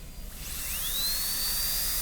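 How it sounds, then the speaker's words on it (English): High whine of a dental drill fitted with a 245 burr cutting an amalgam preparation, rising in pitch as it spins up and then holding a steady, piercing tone, close and alone. "Drill a hole."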